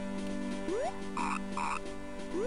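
Two croaks from a frog in the video game Mother 3, each a short warbling burst about half a second apart, standing out clearly over steady looping game music.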